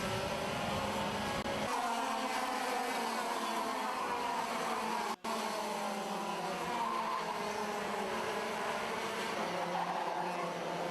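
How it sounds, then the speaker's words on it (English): Junior TKM karts racing at Shenington Kart Racing Club, with a tyre squeal through Cafe Corner amid a loud, continuous roar of engines close by, with no pause except a brief dropout midway. "I've heard a tyre squeal coming through Cafe Corner just then"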